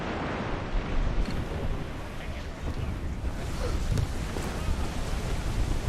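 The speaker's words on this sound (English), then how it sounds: "Storm there, Captain! Look bad!" A storm at sea in Assassin's Creed IV: Black Flag, with heavy rain and surf roaring steadily and loudly throughout, broken by deep thunder-like rumbles, while voices shout faintly underneath.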